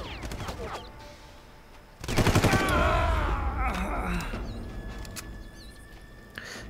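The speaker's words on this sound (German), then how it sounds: "Jetzt schießen die da von oben wieder" Rapid automatic gunfire from enemies positioned above in the video game Far Cry, a loud burst of shots erupting suddenly and rattling on for a couple of seconds, while a player voice reacts alongside.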